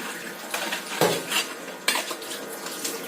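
Dishes are washed by hand, pots and utensils clattering and cutlery clinking in a close, steady scrape and knock, with two sharper clanks standing out.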